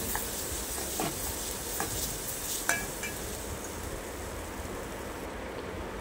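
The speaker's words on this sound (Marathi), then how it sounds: "मध्ये घातले फालवरी भाजको मसालो आणि तो व्यवस्थित परतून घेतले।" Roasted masala and mashed tomato stir-fried in a pan for a Malvani fish curry, giving a steady close sizzle with a few scraping stirs of the spoon and no talking.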